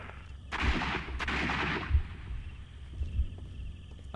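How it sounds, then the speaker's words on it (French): Gunfire in the video game Sherlock Holmes: Crimes and Punishments, with two heavy shots booming over a noisy background followed by a few fainter thumps. "Pourquoi il aurait fait 2 tirs?"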